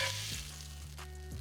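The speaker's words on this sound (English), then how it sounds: "this has seared very quickly on both sides" Wild hog pork sears in a hot pan, giving a steady, close sizzle and crackle of frying fat that holds evenly throughout without any talking.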